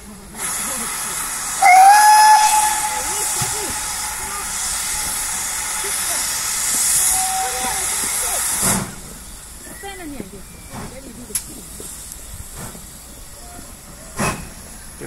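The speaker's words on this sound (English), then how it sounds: "Just about to watch a steam engine depart from Kingswear towards Paignton." At Kingswear, a steam locomotive heading towards Paignton lets out a loud whistle over a long, roaring hiss of steam, then goes quieter, with scattered clanks and people talking in the background.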